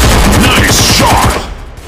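Sustained rapid gunfire from the Android shooter Call of Modern Warfare: a loud, dense automatic burst that fades out toward the end, with no talk over it.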